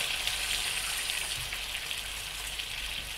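Nearly three small glasses of water poured into a cooking pot of rice and chickpeas, a steady close splashing gush running without pause.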